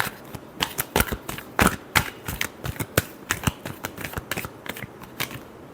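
Tarot cards shuffled by hand in a dense run of crisp, papery riffles and taps, close and fairly loud, with no talking.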